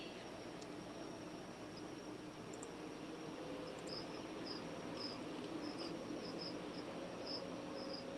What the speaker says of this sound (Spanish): Y el sonido de los grillos que no puede faltar